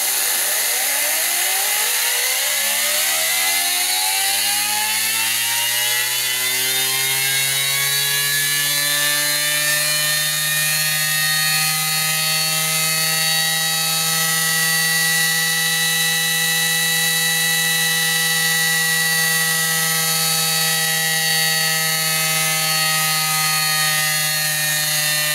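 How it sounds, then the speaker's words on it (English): A small Tesla turbine with a generator head, driven by airflow, spins up from a low hum to a loud, steady high-pitched whine that rises over several seconds and then holds constant. "this little Tesla turbine still produces a large amount of energy from a very small amount of airflow"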